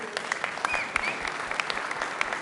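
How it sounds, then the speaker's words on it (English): Audience applause at a fight press conference in Zurich, a short burst of brisk clapping from a moderate crowd with a few sharp louder claps standing out, heard from mid distance. "I think this is worth a big applause right here in Zurich."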